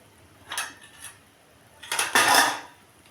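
Mustard spice paste stirred in a pan over low heat for a Bengali fish curry: two short bursts of metal scraping against the pan, the second longer and louder, close by with quiet gaps between.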